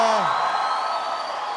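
A fired-up crowd at a political rally where the president is speaking, cheering and whooping loudly and continuously throughout, with a rising whoop at the start fading into a steady roar.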